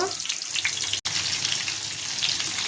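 Stuffed ridge gourd curry frying in a pan, giving a steady broadband sizzle that runs unbroken apart from one short cut partway through, with no voices.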